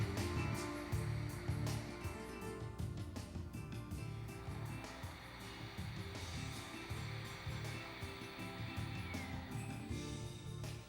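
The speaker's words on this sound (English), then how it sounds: "The sound of Ujjayi is in the throat." Ujjayi yoga breathing: a steady, raspy breath drawn through a constricted throat at the top of the windpipe, continuous and close, heard alone without talk.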